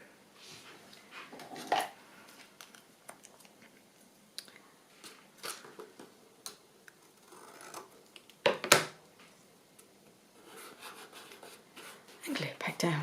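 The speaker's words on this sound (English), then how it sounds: "So I'm just going to trim that." Scissors trim paper scraps with scattered snips and paper rustling close by, irregular and moderately soft, mixed with handling noises.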